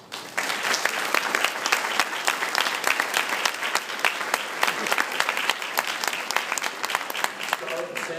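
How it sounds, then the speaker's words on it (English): Audience at a Memphis EMS celebration breaks into sustained applause after honorees are introduced, a dense steady clapping of a sizable crowd that fills the room, with a voice briefly heard near the end. "Let's give them a round of applause."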